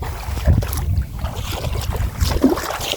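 Floodwater rushes through a small stream channel overflowing into rice paddies, a steady broadband wash of flowing water with gusts of wind buffeting the microphone throughout.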